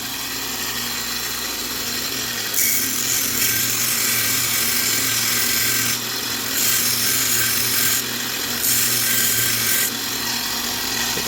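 Abrasive sanding of fiberglass-filled Micarta knife scales during contouring, a loud close rasping hiss that runs continuously and brightens in repeated strokes of a few seconds each.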